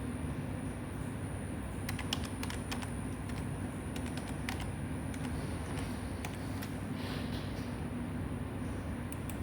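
Keys tapping on a computer keyboard while a password is entered, quick irregular clicks in short bursts over a steady background hum, with no talking.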